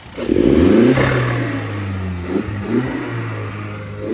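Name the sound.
car engine revving with new air induction kit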